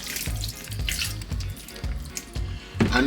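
Kitchen tap water runs and splashes in uneven bursts as raw steak is rinsed under it, close and fairly loud, with no voices.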